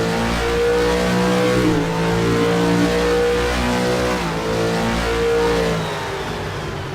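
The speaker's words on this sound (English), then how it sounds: "Let's take a listen to the engine here." A loud race car engine at the 24 Hours of Sebring drones at high revs, its pitch dipping briefly a couple of times before holding steady, with no voices.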